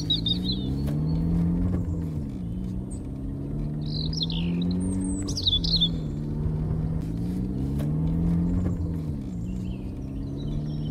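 A car cruising in a horror-themed animated cartoon: a steady low engine rumble runs throughout, with bird chirps scattered above it.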